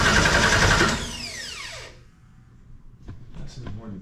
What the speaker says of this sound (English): let's see if we can crank it over and get some fuel pressure